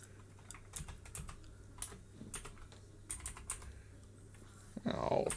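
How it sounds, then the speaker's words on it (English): Rapid clicks of a computer keyboard being typed on one-handed, in irregular bursts with short pauses, close and clear, followed by a brief voice at the end. "I'm typing one-handed here because my setup is"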